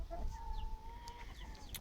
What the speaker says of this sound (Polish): Tam jeszcze raz właśnie moje kurczęta.